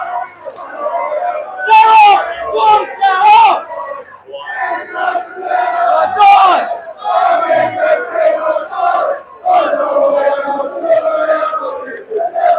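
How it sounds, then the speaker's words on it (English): Protest crowd chanting outside the Bell Hotel in Epping, a loud, dense mass of voices rising and falling in repeated chants and yells that carries on throughout. "Listen to the chants, guys."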